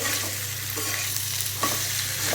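Boiled potatoes stir-fried in a pan for aloo dum, giving a steady close sizzle with light scraping stirs throughout and no talking.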